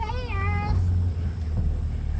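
A cat lets out one short, rising meow at the start, close by on a farm, over a steady low rumbling background.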